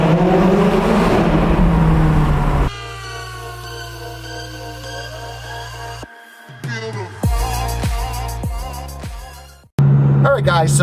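A McLaren 570S engine accelerating in a tunnel, loud close revs rising in pitch through the gears with sharp shifts, a brief drop near six seconds, then a quiet gap before another loud burst.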